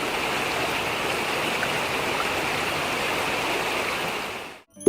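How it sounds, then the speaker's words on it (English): A babbling brook with water flowing over rocks, a steady, full rushing burble that runs unbroken and fairly loud before cutting off abruptly at the end. "The gentle sound of water flowing over rocks is typical of a babbling brook."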